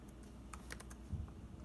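Keys clatter on a computer keyboard in a burst of several quick taps, then a pause with a few softer presses, close and fairly quiet with no talk.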